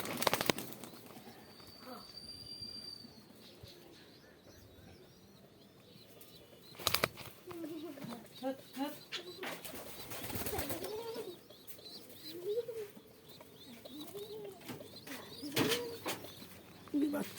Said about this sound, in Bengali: এই যে কবুতরগুলো চলে আসছে,